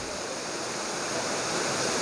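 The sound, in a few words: swollen stream rushing after heavy rain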